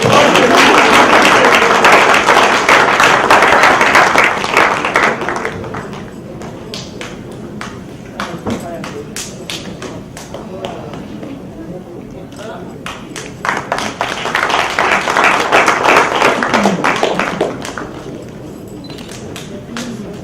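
An audience at an anniversary event for women in religion and global peace claps in two bursts, loud and dense, then fading into scattered claps, with a voice speaking between them.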